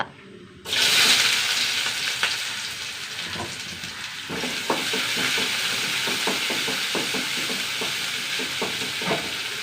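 Mustard seeds and chopped onion hit hot oil with a sudden burst of sizzling that settles into a steady close fry, dotted with small pops and crackles from the seeds, no voices.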